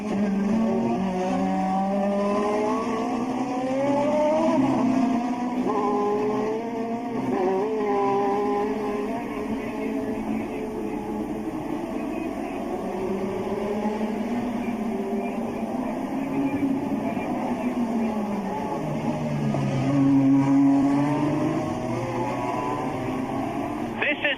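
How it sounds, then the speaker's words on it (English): Formula 1 cars race through the streets at the 1984 Monaco Grand Prix, engines whining and shifting pitch in a steady roar beneath continuous commentary. "Keke Rosberg in sixth position, just ahead of Ayrton Senna in the yellow helmet and in the white Toleman, the new Toleman"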